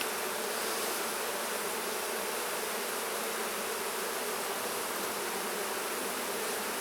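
Honey bees drone in a dense, steady buzz during a hive inspection as frames are lifted, the swarm close and loud with no letup and no voices.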